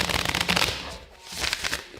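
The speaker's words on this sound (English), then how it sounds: "This is the way I shuffle my decks" A deck of cards is riffled in two quick bursts of rapid flapping, close and fairly loud, with a brief lull between them.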